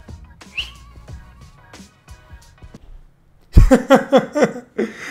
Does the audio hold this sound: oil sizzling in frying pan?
no